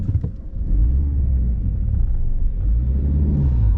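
A Skoda Roomster with a naturally aspirated engine and a smart clutch system pulls away in reverse. A steady low engine rumble swells as the throttle opens, heard from inside the car with no voices.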